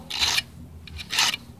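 Two rasping file strokes across the teeth of a hand saw being sharpened, close and distinct with a short pause between them.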